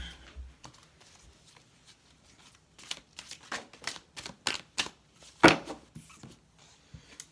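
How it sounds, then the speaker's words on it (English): Tarot cards shuffled by hand, with a run of crisp riffling flicks and slaps that grow louder in the middle and peak in one sharp snap. The cards sound close and stand alone without talk. "we have cards flying out"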